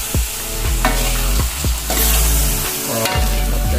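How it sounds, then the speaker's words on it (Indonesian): Sweet dry tempeh being stirred in a frying pan: a constant loud sizzle, with rhythmic scraping strokes of the utensil about every half second. "Lalu kita aduk rata."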